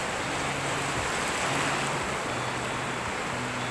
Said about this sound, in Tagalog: Ang lalaki ng alon mga katods.